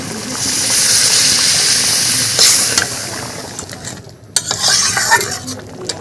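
Hot water being poured into a pan of moong dal with a fish head. There is a loud hissing splash and bubbling sizzle that drops away near the end, followed by a few clattering stirs. Nobody speaks.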